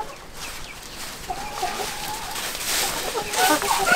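Chickens and a rooster cluck in an old henhouse, with scattered soft clucks and a few higher calls rising toward the end, mixed with faint background noise.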